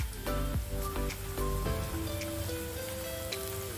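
Mutton kola urundai meatballs fry in hot oil on a low flame, a steady close crackling sizzle like rain on a surface, running throughout with a faint tonal hum in the background.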